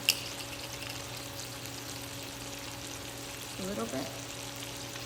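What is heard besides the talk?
seasoned meat frying in butter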